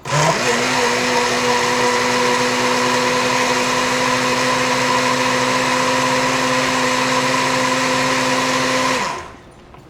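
HERRCHEF smoothie blender running on a countertop with suction-cup feet, a loud steady high-pitched motor whine holding for about nine seconds before cutting off and winding down.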